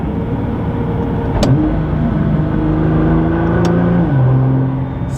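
Nissan GTR with an AAM active exhaust, valve closed, droning quietly from inside the car as the engine note steps down through several downshifts with brief blips, a steady muted hum and no voices.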